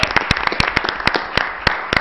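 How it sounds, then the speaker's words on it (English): Applause from an audience at a city finance committee meeting, honoring the Cardinal Spellman High School boys basketball team, Division III state champions: sparse, sharp individual claps spread unevenly across a thin crowd, moderately close, no talking. "So we can give them a round of applause."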